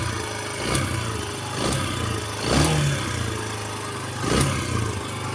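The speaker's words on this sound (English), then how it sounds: "So she's revving with the choke on." A Yamaha XTZ 125 motorcycle engine with the choke on revs up and drops back in four evenly spaced surges over a steady running note, close to the microphone, with no talking.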